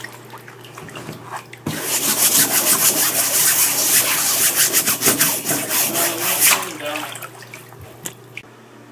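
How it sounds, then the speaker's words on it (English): A scrub brush scrubs mold off a shower curtain laid in a bathtub with water, a loud, steady rapid back-and-forth rasping that starts abruptly and fades near the end. "Then you're going to want to get a scrub brush."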